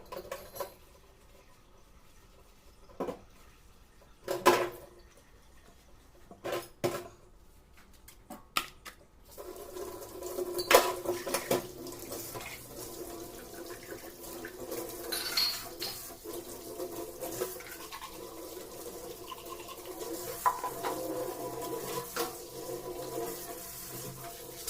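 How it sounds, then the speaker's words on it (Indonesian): Glasses and plates being washed at a kitchen sink, scattered clinks and knocks of dishes, then running tap water splashing steadily in the second half, moderately close with no talking. "cuci gelas dan piring tadi ya"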